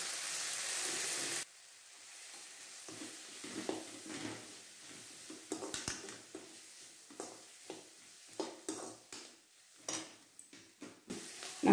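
Grated coconut for pirandai chutney sizzles in a pan at low volume, with scattered spatula scrapes and taps against the metal across the clip.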